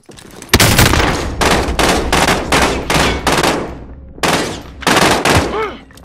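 Rapid bursts of automatic gunfire from a military shooter video game called Rebirth, repeated volleys close and loud with short gaps between them, overlapping constantly through the whole stretch.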